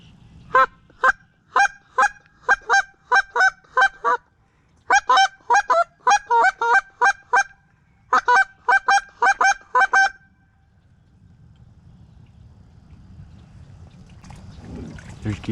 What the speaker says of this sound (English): There's geese behind us.